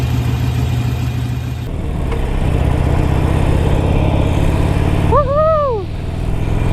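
Harley-Davidson 883R motorcycle engine droning steadily on a ride, a low rumbling note running throughout with wind noise, and a rider's excited shout near the end.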